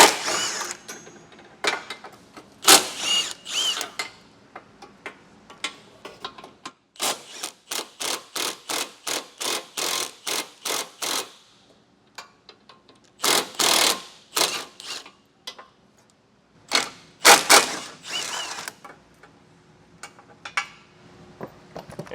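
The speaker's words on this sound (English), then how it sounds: "We're going to use a 16mm socket and get these 4 bolts off." A ratchet with a 16 mm socket removes four bumper bolts on a 2018 Audi Q5, making rapid close clicking bursts in repeated runs with short pauses between them.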